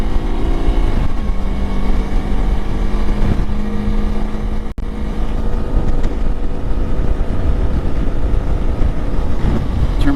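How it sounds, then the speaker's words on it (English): Heavy wind buffeting a microphone while riding a motorcycle on a commute, a loud continuous rushing roar mixed with low engine drone throughout, with one brief dropout midway. "This is going to be noisy with all this wind."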